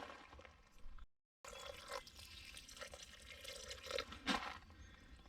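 Water poured from a container onto newly planted tomato plants in a garden, with splashing and trickling that rises and falls, a brief gap, then a louder gush near the end.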